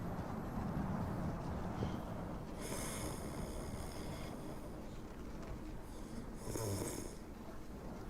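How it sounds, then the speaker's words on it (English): A sleeping person snoring, slow rasping breaths repeating at a steady rhythm, moderately close over a quiet room-noise background with no talk. "Somebody did fall asleep. Listen to the snoring."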